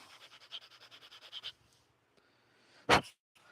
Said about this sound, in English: For this one, I'm going to sand this up.